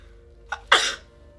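A single sneeze, a short intake followed by a sharp burst, close and loud against near silence.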